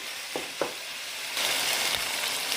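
Ground beef with a little sausage frying in a pan gives a steady sizzle that swells louder midway, with a few soft scrapes of stirring near the start.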